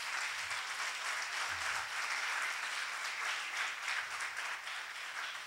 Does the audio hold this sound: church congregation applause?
yes